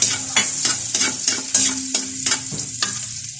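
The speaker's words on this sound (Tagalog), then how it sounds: "Magisa na tayo ng bawang sibuyas." Garlic and onion sautéing in a pan, a spatula scraping in a steady rhythm of about eight strokes over a continuous bright sizzle, close and fairly loud with no talking.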